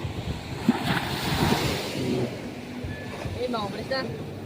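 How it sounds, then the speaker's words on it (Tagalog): Ocean waves surge and wash at sea near a boat, with a rough, windy roar and people talking over the water. "Bigla nagkaalon."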